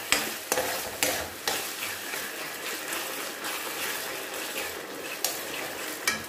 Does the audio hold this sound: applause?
no